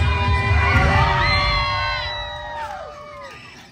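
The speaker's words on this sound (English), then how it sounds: "Let me hear you scream" A crowd of children screams and cheers at a live theme park dance show, with high, overlapping shrieks and whoops that are loud at first, then slowly fade and taper off.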